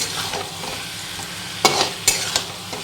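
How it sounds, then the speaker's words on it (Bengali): Spiced chicken being stirred and fried in a pan, with a steady sizzle and several sharp scrapes of the spoon against the pan toward the end, close up with no talking. "ভালো করে আমি এখন মিশিয়ে নিচ্ছি চিকেনটা। এই যে ভালো করে এখন কষাবো।"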